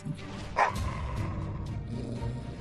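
Several dogs bark at a dog park, one sharp bark standing out near the start over a busy, noisy outdoor background.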